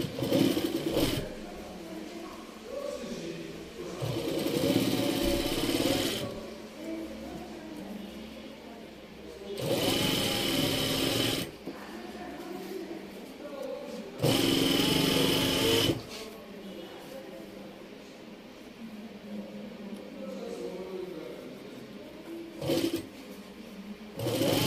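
A sewing machine stitches a summer dress with long stitches in several loud bursts of rapid mechanical whirring and clatter, separated by pauses where a person speaks.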